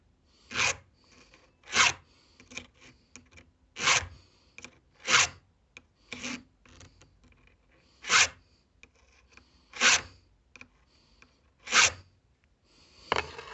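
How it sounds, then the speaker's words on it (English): A file rasps against a Hart brushless 40-volt chainsaw chain, sharpening it in a series of sharp, evenly spaced strokes, close up, with quiet gaps between each pass. "This is how you sharpen a chainsaw chain."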